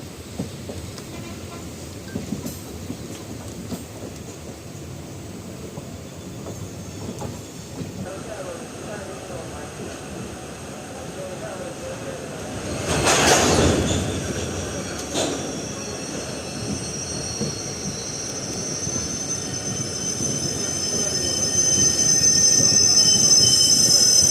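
A DEMU train running from Agasthiyampalli to Thiruvarur, with a steady rolling rumble and a sharp burst of wheel squeal midway, followed by a thin high whine near the end, heard from on board over a constant background roar.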